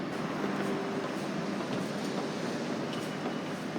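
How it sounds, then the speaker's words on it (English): A Paris metro train pulls into a station with a rising rush and rumble of wheels on rail, fairly distant and steady, with no talk. "Train coming."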